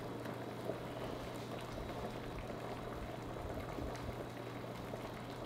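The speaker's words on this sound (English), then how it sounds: "Look at that water boiling, folks." A pot of water boils steadily for cooking pasta, a dense continuous bubbling and hiss, fairly faint and unbroken throughout with a low hum underneath.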